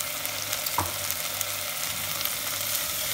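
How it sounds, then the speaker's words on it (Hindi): Ground cumin, coriander, red chilli powder and turmeric sizzle steadily in a hot pan for Egyptian koshari, a continuous close frying hiss with one brief soft clink partway through. "तो स्पाइसेस को अच्छी तरह से इसके अंदर हम 1 से 2 मिनट पकाएंगे।"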